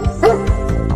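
A cartoon dog barks in a preschool ABC phonics song, a few short yapping barks spaced about a quarter-second apart over the bouncy nursery music.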